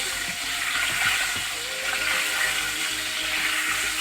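Eggs fry in a pan of oil for egg curry, giving a steady close sizzle with small crackles and occasional stirring scrapes.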